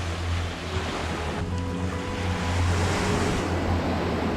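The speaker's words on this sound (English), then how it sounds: "The low tide, this is the beach to come to because you can see the beach is disappearing." Surf washing onto Railay Beach in Krabi at low tide, a steady broadband rush with a low rumble and some wind noise, continuous and fairly loud with no talking.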